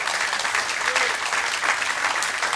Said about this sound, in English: Let's have a round of applause for Linda Smith.